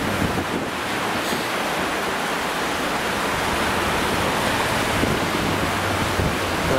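The River Ogmore at Tyn y Garn and Aberkenfig runs high after heavy rain, a steady broadband rush of fast water that stays loud and continuous throughout, with no voices.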